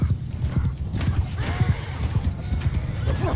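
Cavalry horses gallop in a Mount & Blade 2: Bannerlord battle, thudding hoofbeats in a fast rolling rhythm with whinnies and neighs rising over the clatter of combat, close and loud.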